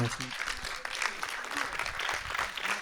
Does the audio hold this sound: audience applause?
yes